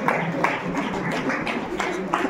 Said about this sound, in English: can I ask you all to just please stand up so we can give you all a round of applause